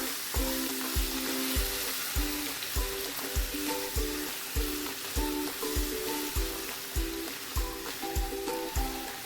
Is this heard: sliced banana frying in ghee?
yes